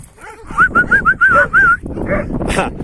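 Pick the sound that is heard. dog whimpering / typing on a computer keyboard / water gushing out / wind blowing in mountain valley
dog whimpering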